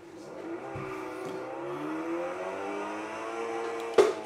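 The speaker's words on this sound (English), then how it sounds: "let's go on test drive of this Robin one berth 1995 motorhome." A 1995 Robin Reliant one-berth motorhome being driven on a test drive. Its small engine makes a steady, fairly quiet hum that rises slightly in pitch, with a sharp thump near the end.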